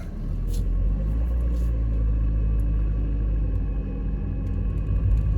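A car's engine rumbles steadily at low speed while it slowly turns round on a road, a continuous close-up interior drone with no one speaking.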